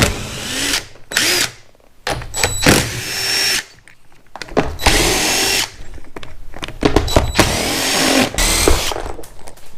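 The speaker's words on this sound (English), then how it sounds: "In order to remove this little pack, we just have to remove these 4 bolts here. It's an 8mm socket." A power tool with an 8mm socket spins out bolts on a 2022 Kawasaki KLX300 motorcycle, loud whirring bursts starting and stopping several times, close up.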